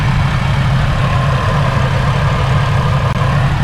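A supercharged Nissan 350Z with a DE engine idles loud and close, a steady, deep, throbbing drone with no breaks.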